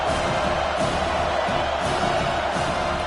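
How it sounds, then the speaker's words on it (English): Steady roar of a stadium crowd cheering on a third down in the College Football 25 video game, UCLA versus Penn State, a loud continuous wash of noise with no breaks. "Decibels rising as the crowd gets behind this defense on 3rd down."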